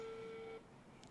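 A phone line tone while a call is placed to a call center: one steady electronic beep lasting about half a second, then quiet line hiss with a faint short tone near the end.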